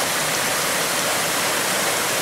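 A small waterfall beside the Twin Falls trail in Pisgah National Forest gives off a continuous, close, hissing rush of falling water, steady and unbroken with no voices.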